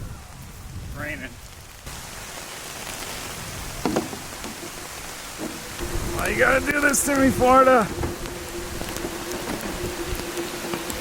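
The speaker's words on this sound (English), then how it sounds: "Raining." Rain falling outdoors at a neglected Florida property during yard cleanup, a steady hiss of drops on surfaces while someone speaks briefly over it.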